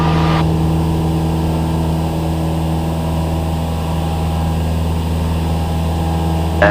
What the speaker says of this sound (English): Full throttle stabilizes the airplane.